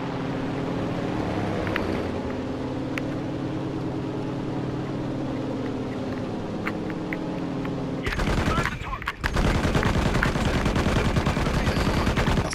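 A steady rumble of battle noise in the World War II shooter Enlisted gives way to a loud, sustained rocket bombardment of rapid crashing blasts.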